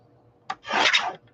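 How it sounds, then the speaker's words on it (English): Paper being trimmed to take the leftover white border off a cut-out for a Winnie the Pooh journal: a single close, rasping cut about half a second long, with a brief click just before and another just after. "I'm going to trim this because it's got some white border on it still"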